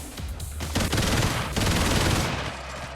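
Dense, rapid gunfire from Brigador fills the stretch, a continuous loud machine-gun fusillade with a low rumble that thins out near the end.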